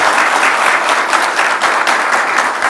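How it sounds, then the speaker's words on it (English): A crowd at the Jubilee House in Accra applauds the NSMQ2020 winning school, loud continuous clapping from many hands, dense and near, filling the whole stretch without pause. "Another round of applause."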